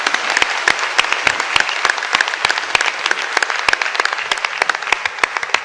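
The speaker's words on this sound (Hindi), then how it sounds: "तो तालियां जरूर बजाइए" Audience applause at a Sunday talk, a sustained burst of many hands clapping in a room, steady and fairly loud throughout with sharp individual claps standing out.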